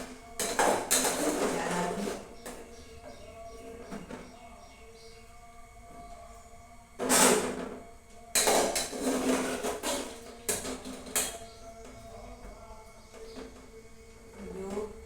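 Boiled mango seeds lifted out of a metal cooking pot, giving intermittent clanks and scrapes of utensils against the pot, with quieter stretches between bursts.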